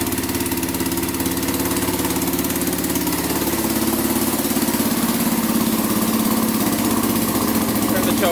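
A Kawasaki 4x4 ATV engine idles while warming up, a loud, steady mechanical chug with a fast, even pulse running throughout, close to the listener and unbroken.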